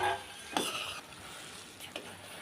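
Fried vegetable Manchurian is stirred into sauce in a pan, giving a quiet sizzle with a couple of brief scraping strokes of a spoon against the pan.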